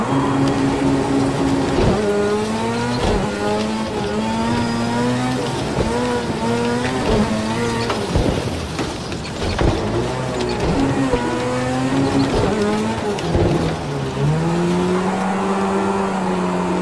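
A rallycross car slides on a loose track, its engine droning loudly and steadily with rising and falling revs throughout, close to the listener.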